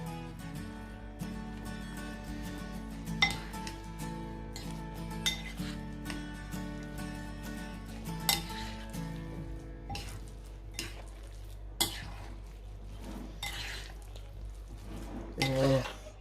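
A potato galette mixture is stirred and kneaded in a bowl, with soft scraping and repeated clinks of utensil against the dish under a person talking.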